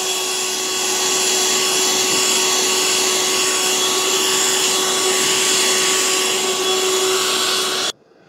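A Black+Decker DustBuster CHV1410L cordless handheld vacuum runs steadily over couch fabric with its brush attachment, a loud, even motor whine that holds for about eight seconds and then cuts off abruptly.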